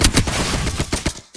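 Rapid bursts of automatic gunfire in the battle royale game Apex Legends, loud and close, several volleys in quick succession with brief gaps, dropping off near the end.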